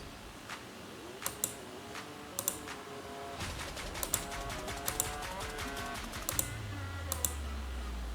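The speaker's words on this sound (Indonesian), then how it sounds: "Ketik TR lalu enter 2 kali." Someone types a short drafting command on a computer keyboard, producing sparse clusters of crisp, close key clicks, including a quick run of presses, with a low hum rising near the end.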